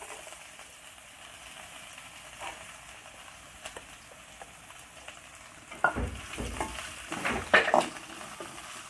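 Coriander leaves sautéing in a pan for chutney, a quiet sizzle running throughout with louder stirring scrapes and crackles bunched near the end.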